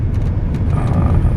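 A car drives slowly up a driveway into a small campsite on a rural property at La Garita, giving a continuous low, close rumble of engine and tyres with no talking.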